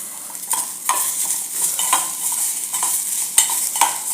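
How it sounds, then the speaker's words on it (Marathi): Tomatoes being sautéed in a pan for a Kolhapuri-style egg curry: a soft steady sizzle broken by several sharp scrapes of a spoon stirring against the pan, close and without talk. "टोमॅटो घालूनही याला एक असं अर्धा मिनिट परतून घेऊया."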